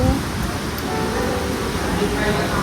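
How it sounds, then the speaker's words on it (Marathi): Steady rain falling outdoors in the monsoon hills of Raigad village, a dense even hiss close around, heard briefly with no clear talking. "पुन्हा पावसाला सुरुवात झालेली आहे"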